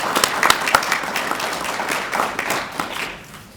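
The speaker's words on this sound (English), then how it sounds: "I'd like to just give those two groups a round of applause if you would join me in that." A round of applause from the audience at a press conference launching a public awareness campaign, a brief burst of many people clapping that gradually fades toward the end.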